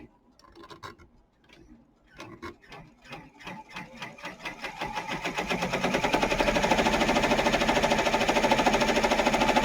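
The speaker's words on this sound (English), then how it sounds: "I'm going to go ahead and start the machine, and it's going to sew the next step" A Brother PR1055X embroidery machine stitches down fabric for in-the-hoop Halloween coasters, starting with sparse mechanical clicks and then building into a loud, steady, rapid needle chatter.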